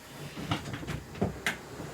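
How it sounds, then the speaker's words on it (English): A door is opened indoors to let a cat out, giving a few close clicks and knocks from the latch and frame over a quiet room. "I have to open the door to the cat out."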